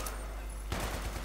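A short burst of rapid gunfire in the shooter Battlefield 3 cuts in abruptly after a quiet moment, several close, fast shots rattling in quick succession.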